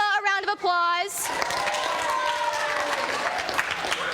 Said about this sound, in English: give Ella a round of applause